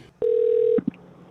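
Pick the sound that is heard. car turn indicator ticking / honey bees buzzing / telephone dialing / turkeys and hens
telephone dialing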